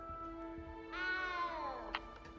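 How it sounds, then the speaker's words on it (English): A single cat meows in the game Hogwarts Legacy, a drawn-out, falling mew rising briefly then sliding down, faint and alone over a quiet hum with a small click near the end. "You don't need to be frightened, little cat."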